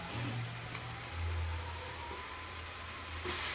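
Onion and tomato sautéing in a pan for a village-style mochai kottai kuzhambu, giving a continuous soft sizzle and hiss over a low steady hum.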